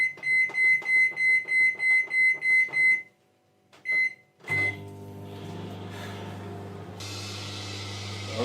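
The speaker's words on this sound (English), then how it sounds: "Simply pop it in a cappuccino cup, and it goes in the microwave." A microwave oven heating an apple in a cappuccino cup finishes with a run of evenly spaced beeps, then a door clunks open and a loud low hum with clatter follows.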